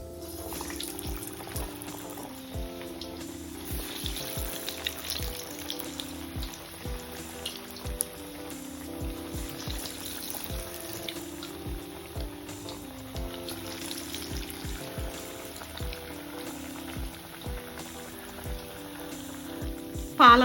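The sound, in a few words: cowpea and spinach vadas deep frying in hot oil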